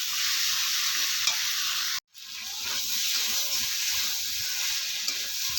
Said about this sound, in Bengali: সেই মশলাটা দিয়ে দিচ্ছি দিয়ে একটু নাড়াচাড়া করে নিচ্ছি